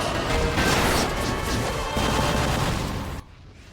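A Granite Blast attack explodes in an anime fight, a loud sustained crashing roar of smashing rubble that rumbles for about three seconds before cutting off sharply.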